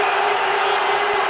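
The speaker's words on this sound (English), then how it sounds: "these supporters of theirs in the crowd could be jumping up and down for some hours yet" Loud, dense cricket crowd of Pakistan supporters roaring and cheering after a wicket in the Champions Trophy final against India, a steady wall of sustained noise with scattered whoops throughout.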